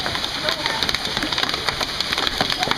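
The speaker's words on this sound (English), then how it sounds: "This is the biggest hail I ever remember." Large hailstones pelt down during a hail storm, a dense, steady patter of hard hits close by, with voices talking over it.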